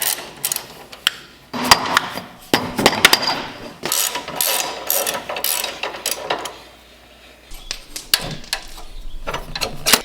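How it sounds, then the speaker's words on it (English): Hand tools and a ratchet click and clank while a race car's rear end is taken apart, with sharp metallic knocks and bursts of ratcheting in irregular clusters, close and fairly loud, with no talking. "we are going to take apart this rear end and disconnect all the components"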